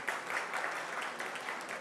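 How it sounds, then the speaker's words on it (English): A brief, polite round of applause from a room of bidders at a contemporary art evening auction, soft and even with steady scattered claps. "It's a very polite round of applause, that one"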